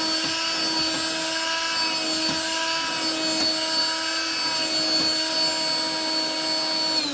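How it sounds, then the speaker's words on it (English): A Bissell Pet Stain Eraser portable wet vac runs close by with a steady high whining motor drone and sustained tonal hum, unchanging and heard alone. "you come with the wet vac, you go over several passes"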